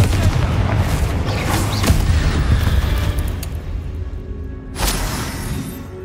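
A Bombarda spell blasts inside a catacomb in the Hogwarts Legacy video game, giving a loud, rumbling explosion that rolls on and slowly fades, with a second sharp burst near the end.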